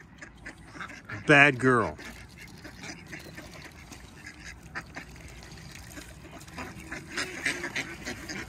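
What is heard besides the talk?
ducks quacking, Muscovy duck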